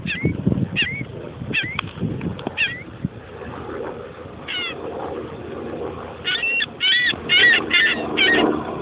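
Gulls, a flock of hungry seagulls, calling in short rising squawks, first a few spaced cries, then a denser burst of overlapping calls, heard outdoors over rumbling wind noise.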